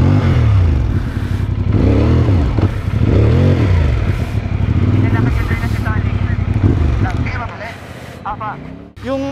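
A motorcycle engine runs close by and loud, swelling through several revving rises and falls, with clattering and people talking over it.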